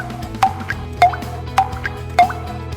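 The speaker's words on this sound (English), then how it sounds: "you can hear the auditory cue, the rhythmic tick-tock sound from the earphone" Rhythmic tick-tock cue from the earphone of a Parkinson's walking aid, the GYENNO SKYWALK Lite: four evenly spaced clicks about half a second apart, each with a short dripping tone, over a low steady background.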